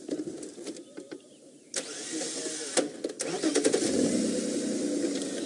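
A safari game-drive vehicle's engine cranks and catches, then settles into a steady mid-pitched running rumble, close by, following a few faint clicks and knocks.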